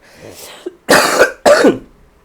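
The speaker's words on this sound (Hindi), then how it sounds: "आज बहुत खांसी" A person coughs twice in quick succession, harsh and close, after a softer throat-clearing rasp.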